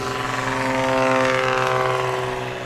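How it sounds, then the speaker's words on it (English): A STOL light aircraft in a short takeoff at a competition in Ontario, Oregon, a steady propeller engine drone that swells slightly and then eases, fairly close and continuous. "That is a nice short takeoff for him."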